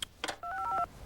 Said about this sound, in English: Show us how easy it is to dial 1-800-COLLECT.